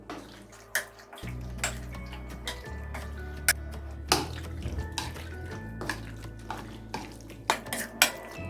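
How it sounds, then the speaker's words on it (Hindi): A spoon mixing vinegar into chicken pieces in a bowl for popcorn chicken: quiet wet stirring broken by irregular sharp clinks and taps against the dish, near and alone without talk. "थोड़ा सा हम इसमें विनीगर डाल देंगे और इसको मिक्स करेंगे अच्छी तरह।"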